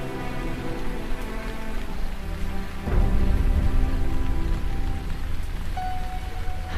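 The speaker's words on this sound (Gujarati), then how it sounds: "વરસાદ વધવા લાગ્યો" Steady heavy rain pours down, a dense broadband hiss that swells louder midway, with a faint tonal hum near the end.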